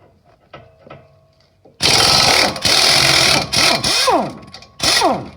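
A power tool, likely an impact driver, spins out bolts during a wheel bearing replacement on a 2012 Toyota RAV4, starting after a quiet moment and running in several loud close bursts with pitch sweeps as each bolt breaks free.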